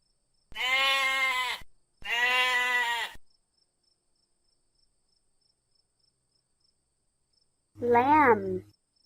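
A domestic sheep bleats twice in long, wavering calls close by, then after a long silence gives a shorter, higher bleat.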